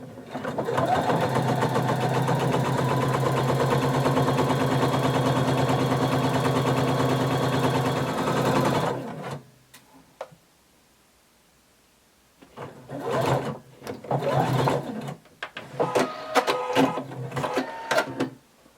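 An electric sewing machine stitches a half-inch seam down a little black dress, a loud steady whir for about nine seconds that stops abruptly, followed by quiet and then scattered handling clicks and rustles.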